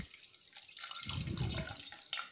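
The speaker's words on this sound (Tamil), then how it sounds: "இப்போ தண்ணி சேர்த்துக்கலாம்." Water pours into a pressure cooker while mutton biryani is being made, a splashing, trickling stream that strengthens midway and carries on alone at close range.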